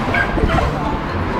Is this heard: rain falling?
no